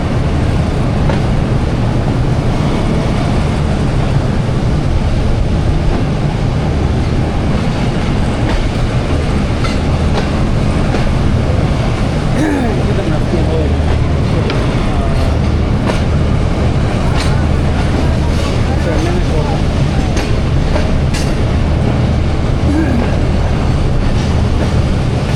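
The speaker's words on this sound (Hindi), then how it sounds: "अलेक्जेंड्रा ब्रिज से पास हो रही है हमारी ट्रेन।" A passenger train crosses the Alexandra Bridge on the Rawalpindi to Lahore run, with a loud continuous rumble and a steady clickety-clack of wheels. A faint squeal rises now and then, heard from inside the train over a long stretch.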